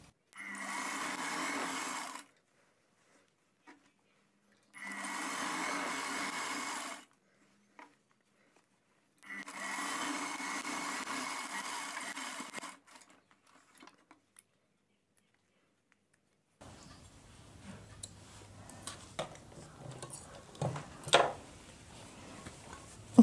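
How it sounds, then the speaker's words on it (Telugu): Sewing machine stitching stretched elastic onto a layered baby umbrella skirt, three steady whirring runs of a couple of seconds each with quiet gaps, followed by faint handling noises. "సాగిన తర్వాత దాని మీద మధ్యలోంచి చేసి ఒక కుట్టు వేసేసుకోవాలి."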